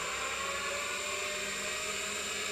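An electric drill machine spins steadily while winding wire or thread, giving a constant high whirring whine with a broad hissy texture and no pause, loud and close, with no voices.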